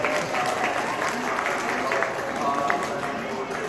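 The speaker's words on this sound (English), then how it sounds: "Let's give Holly a round of applause for that" Audience applause at an agricultural expo horse riding demonstration, a steady wash of clapping sustained throughout at moderate distance, with a voice talking faintly underneath.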